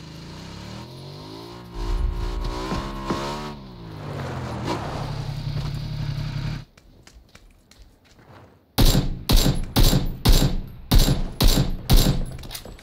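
PUBG gunfire: after a stretch of engine-like rumble and a quiet gap, a rapid string of loud sharp shots bursts out in quick succession.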